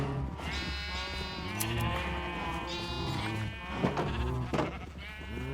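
Sheep in Minecraft bleat repeatedly in the game, several overlapping wavering baa calls layered over one another, clear and fairly close, with no talking over them.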